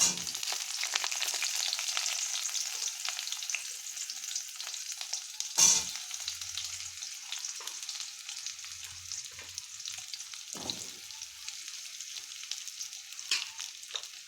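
Chopped vegetables fry with a steady, even sizzle in a pan over cumin, the crackle holding throughout with one sharp scrape or clink partway through and a few soft knocks, no voices.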